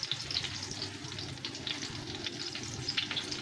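Pointed gourd slices fry over low heat in a pan, giving a faint, even sizzle with small crackling pops, close and quiet.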